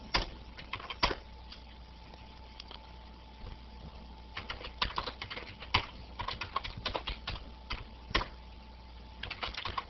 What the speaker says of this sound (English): we can type it again